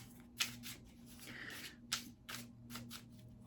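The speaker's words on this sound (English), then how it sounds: "let's go ahead and shuffle the cards again and pull another card for February 2021" Tarot cards are shuffled by hand in quiet, close, soft riffling bursts with crisp snaps at irregular intervals and rubbing in between.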